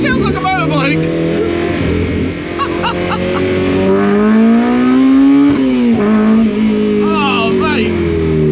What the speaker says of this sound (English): as you can hear behind me, there's a K20 singing